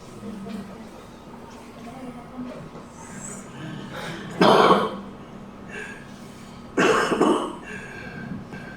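Two harsh, loud coughing bursts from a smoker, separated by a couple of seconds, over a low steady room hum with faint background voices.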